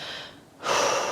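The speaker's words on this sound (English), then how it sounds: "Big breath in" A deep inhaled breath during a relaxation exercise, a soft airy intake that swells after a brief quiet pause and holds steady and close.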